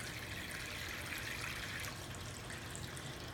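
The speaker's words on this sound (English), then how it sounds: "And we just keep filling it with clean water." Clean running water fills a tray to rinse a collodion chloride printing-out paper print, a faint, steady trickle and splash heard alone.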